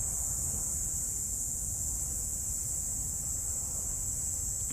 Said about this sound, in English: You can really hear the cicadas.